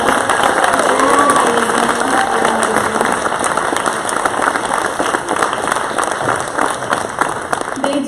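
A crowd claps and cheers steadily at a chamber of commerce annual meeting, with a murmur of voices mixed into the dense, continuous applause.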